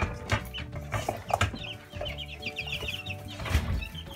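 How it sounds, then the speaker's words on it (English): Several-weeks-old chicks, one of them injured and being cared for, cluck and peep close by in soft repeated calls amid light handling noise, with no talking. "So these chicks are several weeks old."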